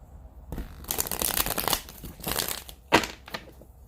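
Close, continuous rustling and crinkly shuffling of tarot cards, with a sharper snap near the end, no voices.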